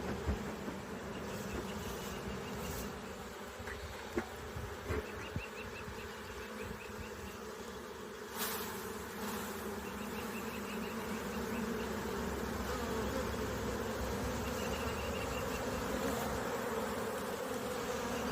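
Honey bees buzz around a hive during a June inspection, producing a steady, dense drone from many insects close by, with faint rustles and no talking.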